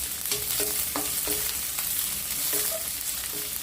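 Sliced onion frying in hot oil for saucy Maggi noodles, a constant bright sizzle with a few short tonal clinks of a utensil against the pan, close and steady, with no voices.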